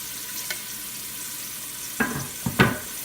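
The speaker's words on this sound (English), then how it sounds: "And we're going to stir this around" Bell peppers and celery stirred in a pan with salt, several short scraping clatters of a utensil late on over a steady low kitchen hum.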